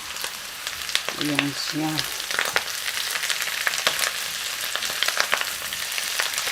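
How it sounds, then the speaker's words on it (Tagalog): Pork frying in a 24-size wok for creamy mushroom spaghetti, a dense continuous crackling sizzle with scattered pops, close and steady, while someone speaks briefly near the start. "Lagay na po natin ang pork."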